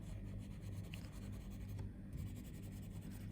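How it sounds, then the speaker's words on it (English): A pencil shades across paper with light pressure, a steady, soft scratchy rubbing that continues without pause, quiet and close with no voices. "So putting less pressure with my pencil."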